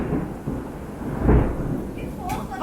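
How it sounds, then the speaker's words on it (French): Thunder rumbles through steady rain in a Brazilian rainy-season storm, with one louder low roll in the middle and a hiss of rainfall throughout. "ben ça c'est la saison des pluies au Brésil"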